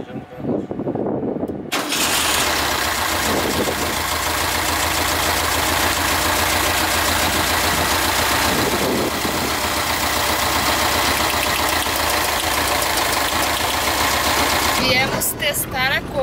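A Volkswagen Kombi engine cranks and catches after a spark plug change, then settles into a loud, steady idle that runs on for over ten seconds before a brief change near the end.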